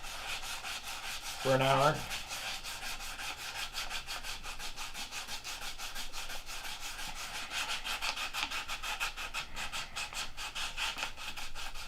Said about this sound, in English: But you guys keep watching, I'll keep sanding.